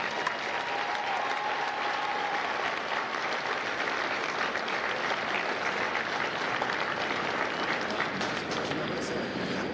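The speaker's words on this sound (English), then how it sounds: "please join me in a round of applause for the company staff of Lima Company" A crowd at a U.S. Marine Corps recruit graduation ceremony at MCRD San Diego applauds the Lima Company staff, steady dense clapping from many hands that holds at an even level for the whole stretch.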